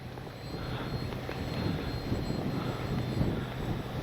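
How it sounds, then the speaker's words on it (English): An FMS Ranger radio-controlled plane flies on a windy day, its steady propeller drone and thin high whine carrying through continuous wind rumble at a moderate distance. "stability mode is keeping the plane level and at a safe altitude"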